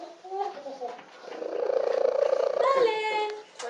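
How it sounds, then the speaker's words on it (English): A cat purrs loudly and steadily at close range in a home setting, a continuous rumbling throb that swells through the middle, with people talking around it. "The world's loudest purring cat."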